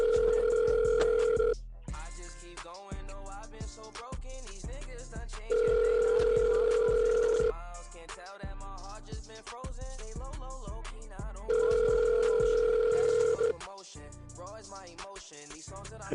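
Phone ringback on an outgoing call, three long steady tones spaced about six seconds apart, with a voice talking over the gaps between rings.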